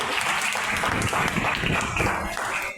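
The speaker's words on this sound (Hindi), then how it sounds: "सर जी के लिए एक बार जोरदार ताली होनी चाहिए" A seminar audience breaks into steady, dense applause for a respected teacher, a continuous wash of clapping heard fairly close for a few seconds.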